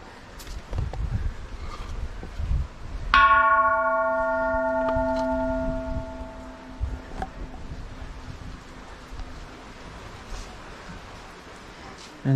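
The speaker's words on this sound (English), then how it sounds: "Bell to ring." A temple bell in Thailand struck once near a hilltop Buddha statue, ringing out with a sharp clang and a long, shimmering decay of layered tones. Light wind and faint outdoor noise sit underneath.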